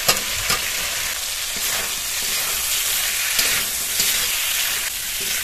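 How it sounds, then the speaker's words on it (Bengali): Potatoes sizzle and fry in a hot spice paste with Kashmiri chilli, a loud steady crackle close up with occasional stirring scrapes and pops, no voices. "আলুটা দিয়ে খানিকক্ষণ একটু কষিয়ে নিই"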